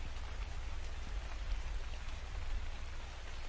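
Steady rain in the horror video game The Convenience Store, a dense, even hiss of drops on surfaces that continues alone without pause, moderately quiet and close.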